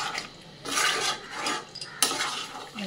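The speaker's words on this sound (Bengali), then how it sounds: "এবার একটু ভালো করে মশলার সাথে পনিরটা মিশিয়ে নেব।" Paneer being stirred with spices in a pan, bursts of scraping and clinking of the spoon against the pan in a few rough strokes, close and fairly quiet, with no talking.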